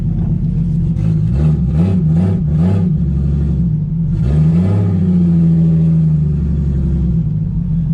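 A 1JZ-engined Fox Body car revs in a run of short pulsing bursts, then climbs into one long sustained howl. The engine is close and loud throughout, with no talking.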